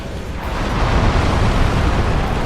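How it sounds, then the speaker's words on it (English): A floor collapses in Dark Souls, giving a loud, sustained rumbling crash of breaking stone that fills the whole moment with dense low roar and debris noise, close and continuous without a clear single impact. "it's the floor collapsed right there"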